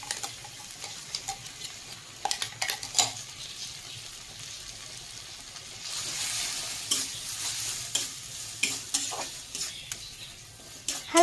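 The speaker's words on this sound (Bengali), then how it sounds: "হালকা হাতে একটু নাড়াচাড়া করে মিশিয়ে নেওয়ার পরে" Ground bottle-gourd-leaf paste is stirred into softened fried onions in a pan, gentle scraping strokes over a soft sizzle, close and fairly quiet, with a brief hissing swell midway.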